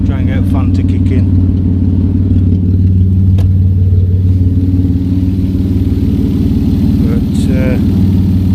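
A Vauxhall Vectra GSI engine idles at operating temperature, its steady low rumble and hum constant and close throughout, with brief faint clicks and a short whine over the drone.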